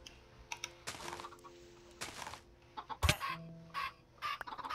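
Chickens cluck in the video game Minecraft amid quick clicking keyboard taps and game effects, with a sharp burst midway; the clucks come in short bursts, moderately loud and close.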